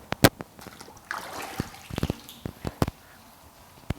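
Water sloshing and dripping in a bucket used for wet sanding the fenders of a 1950 Chevy truck, a series of sharp close drips and small splashes with a brief swirl of trickling water in the middle.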